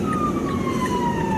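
A police car siren wails continuously in a live Maui news broadcast, one steady tone sweeping slowly downward against a constant background hum.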